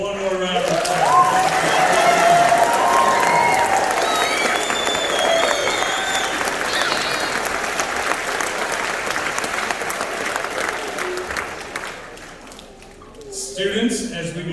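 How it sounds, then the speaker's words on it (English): An audience at an 8th grade recognition ceremony applauds loudly with dense clapping and some cheering, the clapping gradually fading toward the end. "let's give our 8th grade students one more round of applause."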